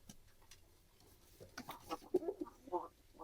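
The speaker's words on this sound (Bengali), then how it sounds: "গাইস আপনাদেরকে দেখাই আমাদের সবজি কবুতর গুলা, এই যে দেখেন এখানে।" Pigeons kept on a farm give soft, low coos and murmurs close by, quiet at first and then a cluster of short calls in the second half.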